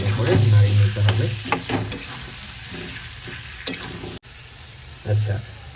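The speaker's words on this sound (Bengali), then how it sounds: "টমেটোগুলো দিয়ে ভালো করে নাড়িয়ে নিতে হবে" Tomatoes stirred in a frying pan, with spatula scrapes against the pan over a loud sizzle and a wet, churning quality, pausing and resuming across a few seconds.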